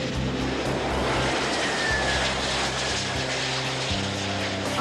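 A Lockheed L-1011 wide-body jet converted into a flying hospital, its engines giving a loud, steady roar with a broad rushing tone, close and continuous for several seconds with no voices.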